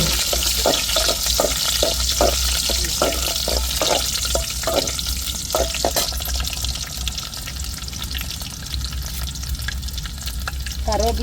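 Garlic crackles sharply in hot oil during a tempering for brinjal curry, a loud continuous sizzle with a run of spattering pops early on that settles into a steady hiss.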